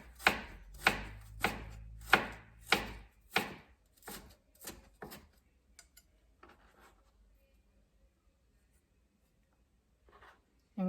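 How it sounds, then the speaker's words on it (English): A knife cutting onion into julienne strips on a board, about eight crisp evenly spaced chops that then thin into quieter, scattered taps and faint rustles, close and clear. "first we cut it into julienne strip"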